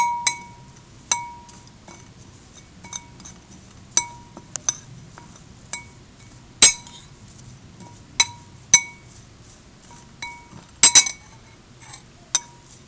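Spoon clinking against a glass while mixing incense ingredients, a quiet series of sharp irregular taps spread apart, with a few quick clustered clinks and no talk.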